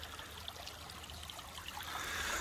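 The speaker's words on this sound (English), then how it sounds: "here we are out on beautiful Honeysuckle Creek" Water flowing in Honeysuckle Creek, West Virginia, a steady close wash of trickling and babbling that holds even throughout, with no voices over it.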